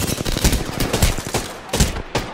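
Rapid bursts of gunfire from a Peacekeeper shotgun and other weapons in the battle royale shooter Apex Legends, sharp repeated cracks and volleys packed close together across the whole moment, loud and near.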